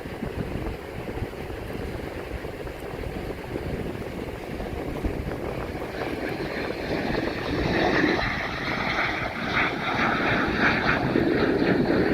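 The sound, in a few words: World War II F4U Corsair aircraft coming in to land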